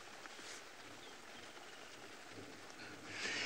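Steady rain patters on a roof during a wet safari outing, a soft continuous hiss that swells slightly at the end, with no voices.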